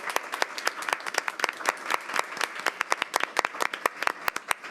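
Applause from the audience at a school board meeting, a thin scattering of individual hand claps, distinct and fairly close, forming an uneven patter rather than a dense roar.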